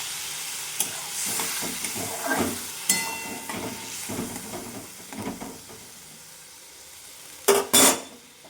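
Koi fish and bottle gourd curry sizzles and bubbles steadily in a pan after water is poured in, with intermittent stirring and clinks of a utensil against the pot, ending in a couple of louder sharp scrapes.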